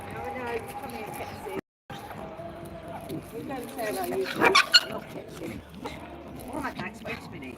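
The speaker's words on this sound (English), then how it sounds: "All the dogs saying hello to each other." Several dogs greet each other outdoors with short excited barks and whimpers, loud and close in a brief cluster midway, mixed with snuffling and a person talking throughout.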